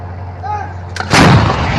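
A single loud Israeli artillery blast fired into Lebanon erupts after a quiet hum, the boom rolling out and lingering as a deep rumble.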